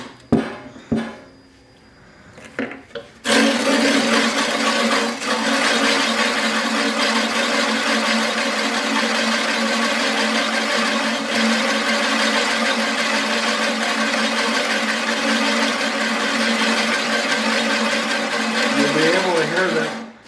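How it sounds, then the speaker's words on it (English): Reel cutter blades being lapped with grinding grit, a steady gritty whirring and scraping drone with a constant tonal hum that runs loud and continuous after a few short starts. "You can hear the grit taking a hold."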